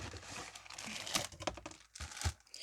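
Foil wrappers of Demon Slayer (Kimetsu no Yaiba) trading card booster packs being torn and crinkled open, a busy close run of crackling, ripping and rustling, fairly quiet overall with no voice.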